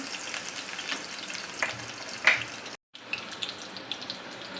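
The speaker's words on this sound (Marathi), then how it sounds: "कढईमध्ये दोन चमचे तेल गरम करून घेतलं आहे त्यामध्ये टाकूया थोडी लसूण" Garlic sizzles in hot oil in a wok as a bright, crackling hiss with sharp spits, broken by a brief gap of silence partway through.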